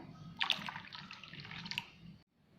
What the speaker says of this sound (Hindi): गोटे कप नडिया पानी दबा।